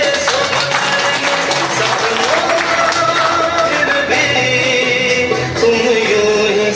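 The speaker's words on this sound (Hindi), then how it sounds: "जोरदार ताली।" Loud, sustained applause at a district magistrate's farewell ceremony in Sitamarhi fills the space, dense and continuous with a crowd murmur underneath, and no speech rises above it.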